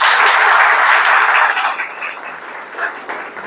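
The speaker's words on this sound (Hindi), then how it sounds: "एक बार जोरदार तालियां सर के लिए।" A lecture audience breaks into loud applause for a teacher-training speaker, dense clapping at first, then thinning and tapering off toward the end.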